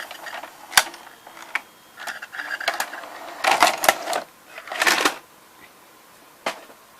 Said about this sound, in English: Now I press eject.